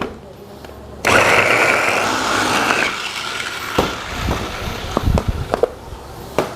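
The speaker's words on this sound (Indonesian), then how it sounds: "Masukin semua bombaynya. Oke. Ya, dan langsung kita giling." Electric food grinder processing onions in a catering kitchen, starting abruptly with a loud steady whirring motor hum that fades after a few seconds, followed by scattered knocks and clatter.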